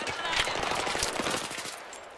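A shotgun fires in the Xbox 360 game Battlefield 3: a rapid run of close, sharp gunshots over about two seconds.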